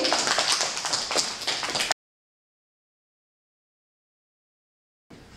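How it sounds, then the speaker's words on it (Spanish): Five-year-old children clapping loudly in a classroom during a mental arithmetic lesson, a dense patter of small hands that cuts off abruptly into silence and returns briefly at the end. "¡Un aplauso muy fuerte!"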